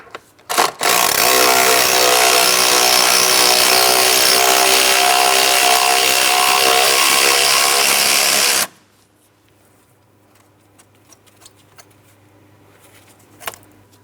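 A power tool whirs steadily for about eight seconds, loosening and backing out a 10mm bracket bolt on the 3.6L V6 engine of a 2003-2007 Cadillac CTS, then cuts off abruptly into near silence with a few faint clicks.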